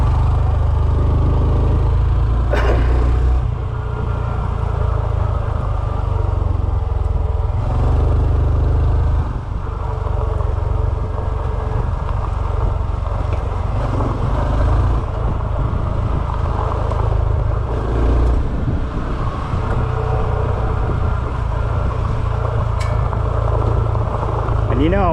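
A Honda CT125 motorcycle engine on a single-track trail, a close, continuous mid-pitched putter that surges and dips with the throttle, with occasional knocks and bumps.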